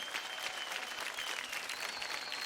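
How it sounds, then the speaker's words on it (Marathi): A studio audience at a televised dance competition applauds, a dense, steady burst of clapping from many hands that fills the whole short clip without voices on top. "जोरदार टाळ्या होऊन जाऊ द्या या तिघांसाठी."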